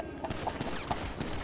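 Faint, repeated gunshots from Grand Theft Auto 5, several quick pops in a loose rhythm sitting low behind steady background noise.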